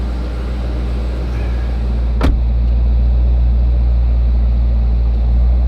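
A Dodge Challenger or Charger Hellcat V8 engine with an aftermarket performance air intake idles with a steady low rumble, broken once by a single sharp click partway through.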